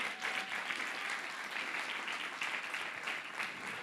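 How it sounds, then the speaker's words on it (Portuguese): A church congregation applauds, a fairly quiet but steady patter of many hands clapping, mid-distance and sustained with slight swells, and no clear voices over it. "Aplauda o Senhor, porque Ele faz isso."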